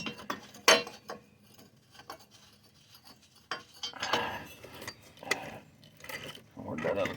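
A ratchet clicks while turning a bolt on a John Deere LA115 riding mower with a 19.5 hp Briggs & Stratton engine, giving close metallic ratcheting bursts and clinks between short pauses.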